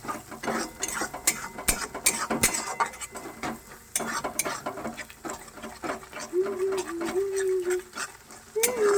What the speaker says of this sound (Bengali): এরপর ভালোভাবে এটাকে মিক্স করছি